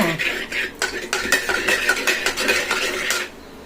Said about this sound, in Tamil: மத்து மாதிரியே கலந்துக்கிறோம் கரண்டியால்